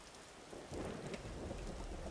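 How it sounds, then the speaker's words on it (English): Thunderstorm in the video game Vintage Story, with steady rain hissing throughout and a deep rumble of thunder that swells in partway and rolls on at moderate volume. "It's always lightning and thundering."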